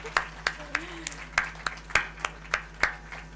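Slow, evenly spaced single claps ring out at a hospital opening ceremony as the women in the audience are applauded, about a dozen sharp claps over a steady low hum, with a faint voice underneath.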